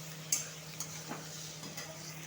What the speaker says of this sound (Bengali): এবার এগুলো একদম কমিয়ে কমিয়ে আস্তে আস্তে করে ঢাকা দিয়ে পুরোটা ভেজে নিতে হবে